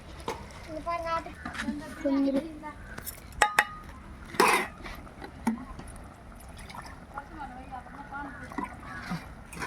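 Tamarind water is poured into a cooking pan in a home kitchen: a brief splashing pour among clinks of pots and utensils, mostly beneath ongoing speech.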